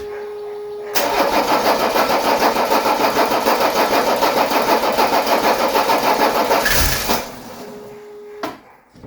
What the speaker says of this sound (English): It tried to fire up right there.